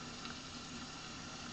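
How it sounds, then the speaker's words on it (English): Steady, even sizzling of food frying in a Thermomix, close and continuous with no voices. "Can you hear that sizzle?"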